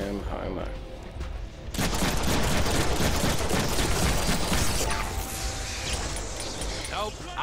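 A gun in the Deadpool video game fires rapidly until it runs out of ammo, a dense, loud volley of shots that surges after a quieter start and holds steady before thinning out. Speech is mixed in.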